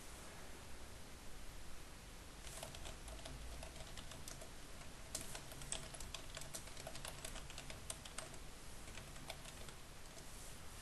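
Text is typed on a computer keyboard in Microsoft Word 2013, with quiet, irregular key clicks and short bursts of faster taps over a constant soft hiss.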